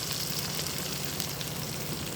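Ginger-garlic paste, blended together, frying in hot oil, a steady close sizzle with faint stirring running evenly throughout, no voices.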